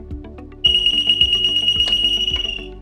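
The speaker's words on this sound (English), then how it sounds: "So that is our continuous run alarm." Continuous run alarm on a pump control panel: a steady, piercing high electronic tone that starts abruptly under a second in and holds loud and near, with mechanical clicking and humming from the running pump beneath it.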